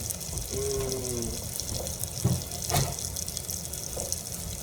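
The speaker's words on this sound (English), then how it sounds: "Give it a little, hit it with a little rinse." Fresh cilantro is rinsed under a running kitchen tap, with a steady stream of water splashing into a sink at close range and a few small clunks in between. No speech is heard.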